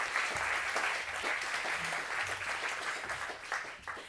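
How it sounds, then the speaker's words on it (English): Audience applause at the ICAI Day June 2022 opening as the business director comes on stage, a dense steady wash of many hands clapping throughout, fairly loud with a faint murmur of crowd underneath. "I'd like a loud applause for the business director of ICAI, Esther Smit."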